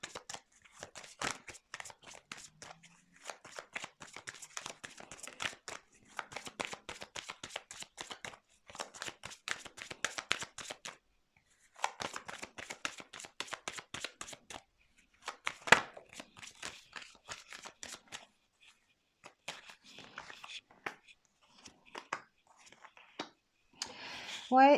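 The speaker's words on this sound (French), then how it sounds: "Je vais quand même mettre des cartes." Tarot cards shuffled and dealt by hand in soft, rapid riffling bursts that repeat with short pauses, close and quiet, with whispered talk over them.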